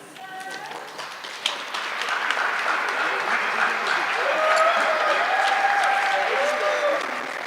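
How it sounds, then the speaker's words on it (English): Audience applause for school learners at an awards ceremony, a steady wash of many clapping hands that swells and holds, with voices talking faintly over it. "another round of applause"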